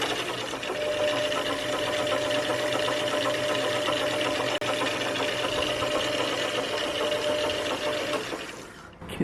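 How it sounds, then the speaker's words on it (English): Steady mechanical whir from a lathe's gear and shaft on a left-hand single point threading adaptor, with a faint rubbing drone and a sustained tone running evenly for about eight seconds before stopping. "it kind of sounds like the shaft is rubbing on something"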